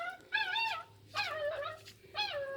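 A puppy whimpers in three high, wavering cries separated by short pauses, close and fairly quiet, with a low background hum.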